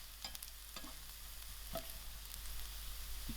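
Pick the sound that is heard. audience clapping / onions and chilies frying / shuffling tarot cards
onions and chilies frying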